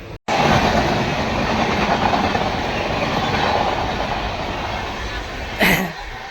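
Passenger train running, with a steady loud rumble and rhythmic wheel clatter heard from inside a carriage, plus a brief squeal or hiss near the end; no clear talk.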